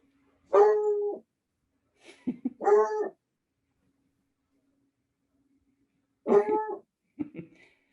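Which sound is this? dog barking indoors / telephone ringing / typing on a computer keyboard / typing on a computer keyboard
dog barking indoors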